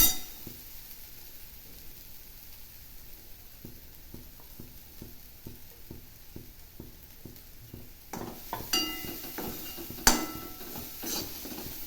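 Cluster beans and lentils being stirred in a pan for a South Indian side dish, soft scraping strokes in a steady rhythm, then louder clinks of a spoon against the metal pan, with a faint sizzle beneath.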